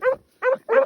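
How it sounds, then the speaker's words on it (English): Hunting dogs on a rabbit trail give three quick, close barks in a short uneven burst, the calls hoarse and mid-pitched. "The green collar male and the red male both bark a little bit."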